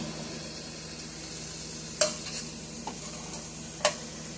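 Turkey meatballs fry in a pan with a steady, close sizzle, punctuated by a couple of brief clinks as they are flipped.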